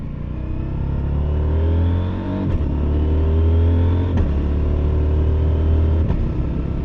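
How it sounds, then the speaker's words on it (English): A Husqvarna Norden 901 Expedition motorcycle downshifts with a quick shifter while riding, a steady engine drone with brief blips at each of three gear changes, up close from the rider's position. "I'm downshifting with a quick shifter, which frankly is amazingly smooth"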